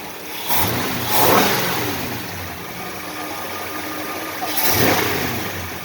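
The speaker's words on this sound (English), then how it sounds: "After I give it a couple revs again" A car's 5.7 Hemi V8 fitted with an Indy Mod Man intake manifold idles with a deep, steady rumble, then revs up twice in rising and falling swells, loud and close.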